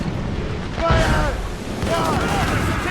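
Cannon fire in an Assassin's Creed Rogue naval battle: deep booming blasts land about a second apart and roll over the rumble of the sea. A voice shouts commands across the shots.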